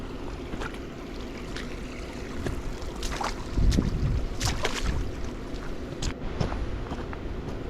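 Snow-melt waterfall in Glacier National Park, a steady broadband rush of falling water with a few brief knocks and rustles over it, fairly close and continuous.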